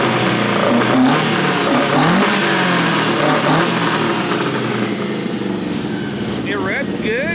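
A loud engine drones steadily, its pitch rising and falling as it revs up and settles, close to the listener.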